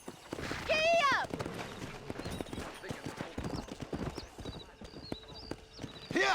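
Horse hooves clip-clopping at a steady riding pace in the Red Dead Redemption video game, with a loud whinny near the start and a voice speaking over the trotting.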